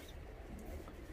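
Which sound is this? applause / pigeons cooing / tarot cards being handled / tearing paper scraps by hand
pigeons cooing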